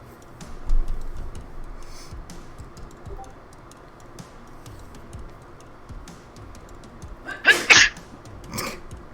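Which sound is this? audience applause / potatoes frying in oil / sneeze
sneeze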